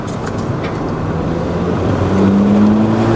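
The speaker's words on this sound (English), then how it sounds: "you just want to hear that turbo spool and you just want to feel that boost" A 2006-2009 VW MK5 GTI turbo engine revving up, a loud close-up rising drone that climbs in pitch toward the end as the turbo builds boost, no talk.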